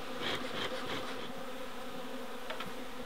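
Honeybees buzzing close by at a hive near an orange tree, a soft, steady hum with individual bees droning past now and then, fairly quiet.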